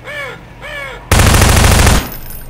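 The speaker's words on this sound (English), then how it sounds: "I wish I could kill the crows." Two harsh crow caws in the video game Half-Life 2, close and clear, followed by a sudden loud burst of gunfire that lasts about a second before fading.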